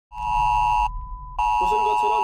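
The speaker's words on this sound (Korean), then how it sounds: "TV를 켜자마자 화면 조정과 함께 재난 문자 알림음이 울려 퍼지고" A steady electronic emergency disaster alert tone from a TV sounds loudly, cuts out briefly, then resumes with a lower warbling tone layered over it.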